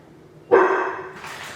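A dog barks once indoors as a delivery truck arrives, a single loud, close bark followed by fading room noise.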